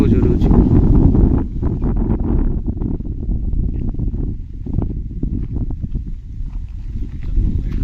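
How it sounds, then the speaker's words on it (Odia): Strong wind at night, around 1:45 a.m., at a roadside tractor accident spot. It is a loud, continuous low roar buffeting the microphone throughout, with a voice partly underneath. "ପବନ ବହୁତ ଜୋର ହେଉଛି।"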